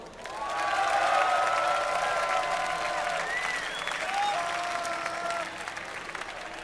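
Sustained applause and cheering from an arena crowd at an MLG Providence 2011 StarCraft match, a steady wash of clapping with scattered shouts and whistles that fades slightly at the end.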